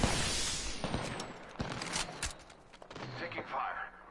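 Video game gunfire: bursts of shots and crackling fire, some sharp close reports and others more muffled, over a noisy, busy background.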